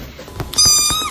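A kitten lets out one drawn-out, high, close meow indoors, with a few soft thumps just before it.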